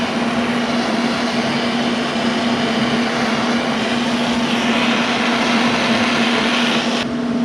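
A torch heats a steel 3/4-inch D-ring shackle before welding, giving a loud, steady, continuous roar with a constant underlying hum that holds unbroken throughout, with no voices.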